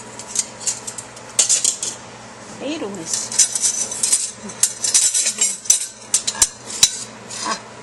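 A spoon clinks and scrapes against dishes and pans while lasagna is assembled, sharp irregular metallic taps and scrapes between bursts of talking.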